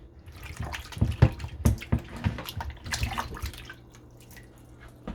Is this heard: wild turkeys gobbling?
no